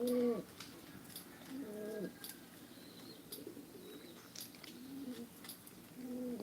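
A pigeon cooing nearby, a few soft low throaty coos spaced across the stretch, with chirps from other birds and faint background sounds around it.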